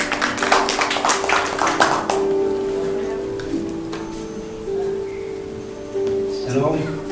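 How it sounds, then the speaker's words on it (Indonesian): A congregation claps at a Pentecostal Sunday service in church. A loud burst of applause lasts about two seconds over sustained music, then fades as the music carries on. "Berikan tepuk tangan bagi nama Tuhan."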